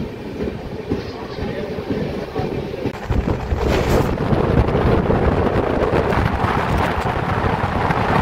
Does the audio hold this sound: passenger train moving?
yes